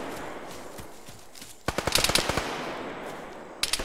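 A machine gun fires in ArmA 3 jungle combat. Quiet background gives way to a loud burst of rapid shots, followed by another short burst near the end.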